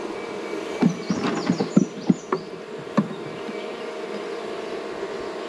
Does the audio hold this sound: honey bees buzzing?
yes